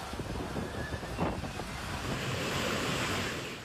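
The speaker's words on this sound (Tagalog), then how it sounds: "Sa bahagi ito, kita ang malakas na pagwasiwas ng hangin." Strong typhoon wind during a signal number 5 storm in the Philippines, a continuous loud roar and buffeting against the microphone with surging gusts, like heavy surf, no voices.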